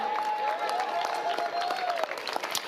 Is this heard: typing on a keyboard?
no